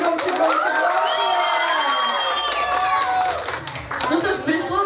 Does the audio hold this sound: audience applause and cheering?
yes